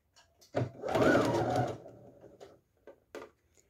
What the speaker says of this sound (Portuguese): Com a máquina na costura reta e o comprimento do ponto em número 3, costuro.